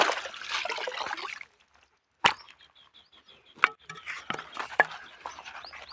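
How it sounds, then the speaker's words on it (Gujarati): Water starts running from a tank valve just opened, a broadband trickling rush that stops briefly then resumes with clanks and splashes, fairly close. "પાણી ચાલુ થઈ ગયું"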